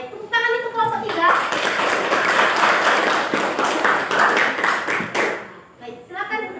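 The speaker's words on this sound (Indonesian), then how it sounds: "Tepuk tangan itu kelompok 3." Schoolchildren in a classroom clap for a group, a sustained bout of dense applause that begins after a teacher's voice and fades before speech resumes at the end.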